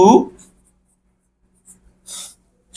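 A pen scratches out numbers on paper in two short bursts while a Class 6 math problem is being solved, following a moment of speech at the start.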